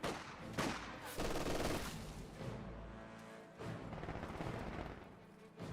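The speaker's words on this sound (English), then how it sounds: "MG42 firing away, suppressing down that Pathfinder." An MG42 machine gun firing in the Company of Heroes 2 strategy game, heard as sustained automatic bursts mixed with booms and battle noise, fairly quiet and in shifting waves.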